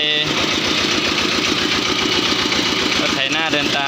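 A homemade walking tractor engine runs steadily at idle nearby, its rapid even chugging pulsing throughout, with a person speaking over it.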